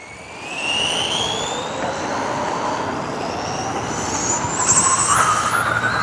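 A Tamiya Hornet RC car runs flat out at full throttle on a road, its small electric motor giving a loud, continuous high whine that climbs in pitch and stays strong throughout, with no talking.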